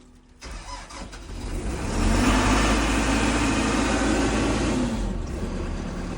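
A DTZ 1204 tractor with a 120-horsepower engine starts up and runs steadily nearby, its low, even diesel drone rising after a couple of seconds and then holding constant, with no voices.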